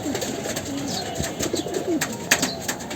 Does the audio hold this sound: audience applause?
no